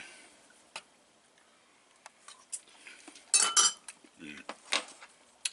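Sausage gravy is stirred in a pan over low heat, a quiet scene of scattered spoon scrapes and metallic clinks against the pan, with a few louder clatters in the middle.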